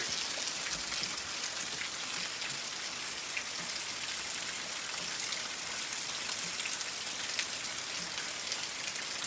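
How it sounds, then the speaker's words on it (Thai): Steady heavy rain pours down without a break, a dense hiss of drops drumming on surfaces close by, with no voices. "ฝนตกอย่างแรงเลยค่ะ"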